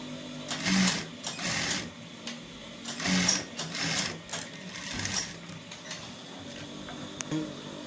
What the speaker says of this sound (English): So I'll sew these edges, then I'll join.